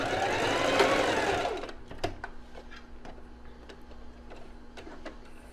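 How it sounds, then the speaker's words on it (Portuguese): A domestic sewing machine runs a steady loud burst of stitching, then backstitches at the end of a seam, stopping into scattered sharp clicks and ticks from the mechanism. "Fiz o retrocesso só no final, que daí eu fiz o acabamento do começo e do final da costura."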